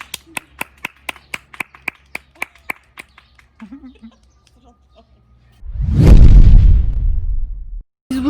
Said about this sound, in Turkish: Evet aşkıma bir alkış alıyoruz.